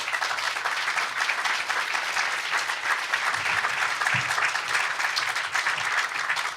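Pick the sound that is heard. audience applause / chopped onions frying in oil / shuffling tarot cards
audience applause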